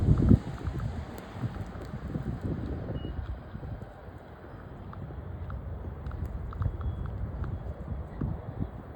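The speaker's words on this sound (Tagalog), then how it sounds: "It's like a storm." Strong snowstorm wind blusters and roars against the microphone, with gusts rising and falling throughout and no clear voices.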